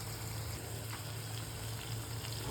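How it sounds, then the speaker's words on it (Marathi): Hot water being poured into a pan of eggplant curry, a steady, continuous gushing fill heard alone for a couple of seconds. "आता गरम पाणी टाकणार आहे."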